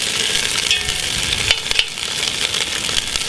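Chili being stirred with a spoon in a cast iron Dutch oven, giving a continuous, close, loud bubbling sizzle with scattered scraping clicks from the spoon.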